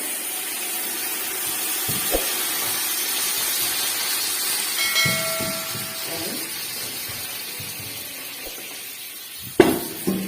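Gamasy butter melts in a pot on a stove with a steady soft hiss and sizzle. Faint knocks of a pot or utensil come through, with a sharper clank near the end.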